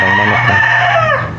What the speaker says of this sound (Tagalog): Ang gandang manok na.